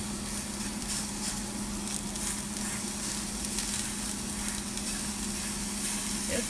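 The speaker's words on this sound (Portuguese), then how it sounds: "Deixa eu virar aqui o hambúrguer. Tá ficando douradinho." Sweet potato flour hamburger patty flipped in a pan, frying with a steady, even sizzle and hiss that continues unbroken throughout at a moderate, close level.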